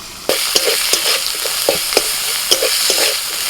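Masala of salt, red chili powder and chopped tomato frying in a pan with a little water gives a loud, constant close sizzle, punctuated by regular spoon taps and scrapes as it is stirred.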